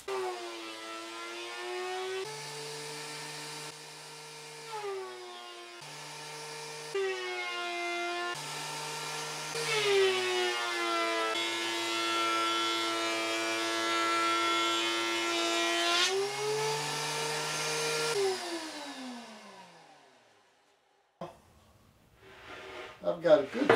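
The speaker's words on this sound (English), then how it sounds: "Stick that in the planer." A wood board is fed through a planer, whose steady motor whine rises in pitch, holds for a long stretch, then spins down and fades near the end.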